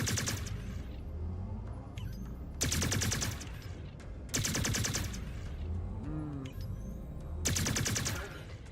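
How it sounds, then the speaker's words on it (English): Mech weapon fire in MechWarrior 5: Clans, with four loud, separated bursts of rapid fire over a low rumbling background. "Firing both at the same time"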